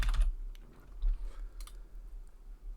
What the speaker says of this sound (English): press C on the keyboard for comment